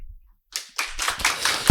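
Students in a lecture class for a real estate agent exam break into applause. After a brief silence, a quick burst of clapping builds from scattered claps into dense, close clapping that ends in a loud thump.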